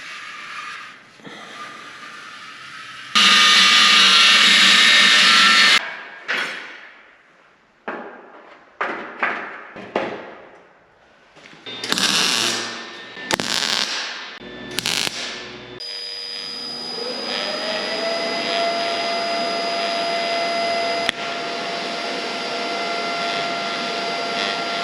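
Welding, grinding and hammering on a steel fender for a Cummins-powered Dodge truck build: a loud burst of grinding, a run of sharp hammer and dolly strikes, then a long steady whine of a power tool, with no talk.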